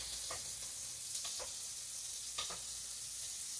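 General Tso's chicken with broccoli and carrots sizzles steadily in a pan, a soft even frying hiss with a few light scraping stirs from a utensil, fairly quiet and without talking.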